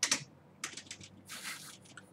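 Quick bursts of typing on a computer keyboard during a coding session, close and fairly quiet, with irregular clusters of keystrokes separated by short pauses and no talk.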